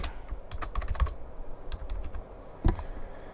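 Typing on a computer keyboard while entering a script value, a quick run of close, crisp key clicks with an uneven rhythm and one heavier thump near the end.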